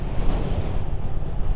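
Atlantic Ocean surf rolls and breaks beside a coastal road on the Wild Atlantic Way while wind buffets the microphone, a steady close roar with no voices.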